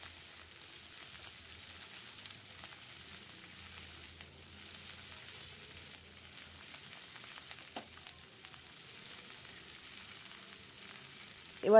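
Long-cut winter vegetables for chochori fry in a covered pan, giving a soft, steady sizzle with faint crackles throughout. A brief clatter comes at the very end.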